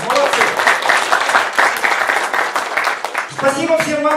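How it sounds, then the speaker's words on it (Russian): Applause from attendees at a Russian-language conference on a handy work device, a busy clatter of hands that thins toward the end as a voice begins. "Хлопаем. Молодцы."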